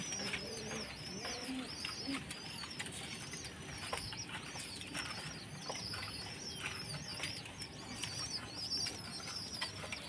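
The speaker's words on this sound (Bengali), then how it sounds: "ওই যে ওই খোপে ছিল কবুতর সবগুলো" Pigeons in a coop make soft, close cooing calls and brief bursts of wing flapping. The sound is faint and continuous, with scattered rustles throughout and no talking.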